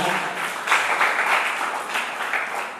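Audience applause in a church teaching session, a steady wash of clapping from many hands that swells slightly after a moment and holds at a moderate level without a clear voice over it.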